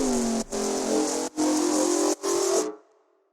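FM dubstep bass built in Operator with an LFO multiplier growls in four loud, harsh, buzzing bursts split by short dips, its pitch wobbling and sliding before it stops abruptly.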